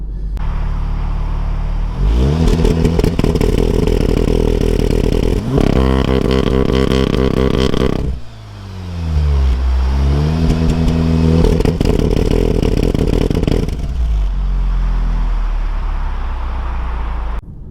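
A tuned VW Golf R 7.5 with a DSG gearbox accelerates hard from inside the cabin. The engine revs rise loud and steady, a quick gear change cuts in, and the note climbs again before settling back.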